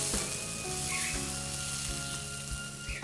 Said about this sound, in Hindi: प्याज जो है अब हमने ब्राउन करना है, इसका कच्चापन ख़त्म हो जाए